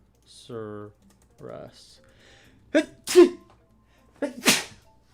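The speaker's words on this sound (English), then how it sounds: "I sneezed." Two sharp sneezes, each with a quick inhaled lead-in, close and loud, following a few soft murmured sounds and a brief higher tone.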